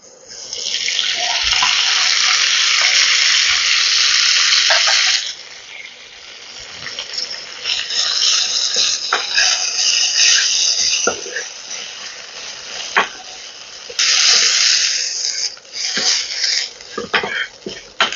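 Drumstick leaves fry in a pan for shukto over a very low flame, giving a loud, close, steady sizzling hiss that swells and fades in bursts, with faint talk in the pauses.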